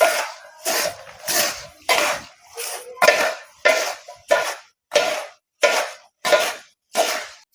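Poha mixed with turmeric is stirred in a pan, giving about a dozen evenly spaced scraping, rustling strokes at a steady rhythm, close and clear, with no talk over them.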